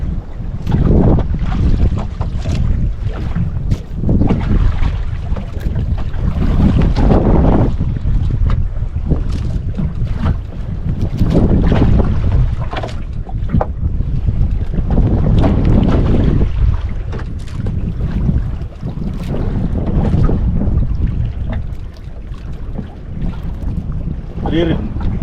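Strong wind buffets the microphone aboard a fishing boat at sea during slow pitch jigging, a loud gusting roar with waves and hull noise that surges and eases throughout.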